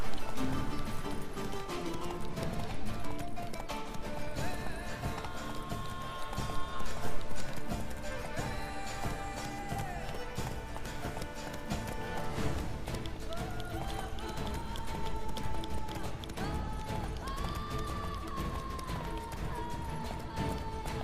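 Roach, the horse from The Witcher 3, gallops in a steady, continuous run of clip-clopping hoofbeats lasting the whole stretch, under game music and occasional background sound effects.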